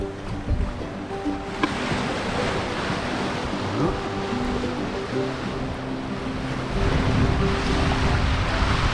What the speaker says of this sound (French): Attention, le vent est beaucoup plus fort.